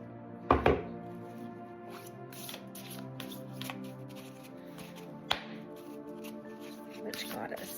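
A goddess oracle card deck being shuffled up close, with a sharp riffle and scattered soft card snaps and taps while a person talks throughout.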